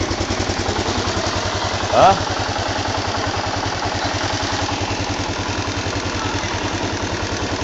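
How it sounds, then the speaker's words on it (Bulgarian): A motorcycle engine idles close by with a fast, even low putter, and a brief louder blip near the middle; a voice speaks faintly over it. "Така че това е мотора."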